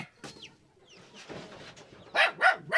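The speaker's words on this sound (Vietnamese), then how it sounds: "bà nuôi gà quá trời luôn." Chickens raised in a rural yard near a forest home, with soft scattered clucks early and three louder, closer squawking calls in quick succession at the end.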